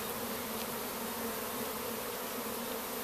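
Honey bees buzzing at an open hive during a Bailey comb exchange, a dense, continuous droning hum of many insects close to the microphone, steady in loudness for the whole stretch with no talk.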